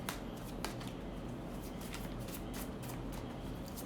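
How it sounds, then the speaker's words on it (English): Tarot cards being shuffled in quick, soft riffling bursts, close and quiet, with no talking. "Let's give it one more shuffle."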